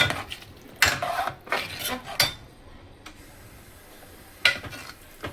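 A spoon stirs and scrapes taro leaf curry in a metal pot, with several sharp clinks and scraping strokes at irregular intervals, close and fairly quiet, with no talk.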